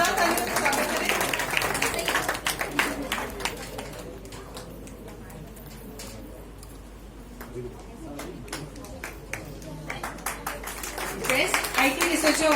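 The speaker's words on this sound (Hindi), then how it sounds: "जोरदार तालियों से स्वागत करें" Audience applause at an award ceremony, strong clapping at first that thins into scattered claps over a murmuring hall, then swells again toward the end.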